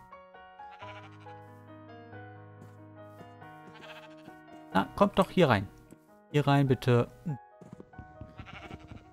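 Sheep bleat in Minecraft, with several loud, wavering bleats clustered in the second half, set over quiet background music while someone talks.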